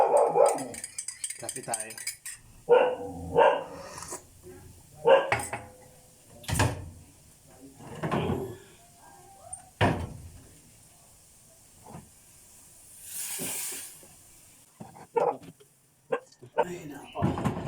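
A pet dog barks in a home kitchen in short bursts, mixed in with people talking close by and the clatter of dishes and a kettle.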